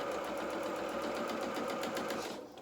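A sewing machine runs steadily, stitching down a 1 cm waistband on a bib for small doll-sized bloomers, its even rapid hum continuous and close before easing off at the end.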